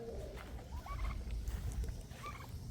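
Turkeys gobble twice in quick bursts, moderately close, over a low rumbling background.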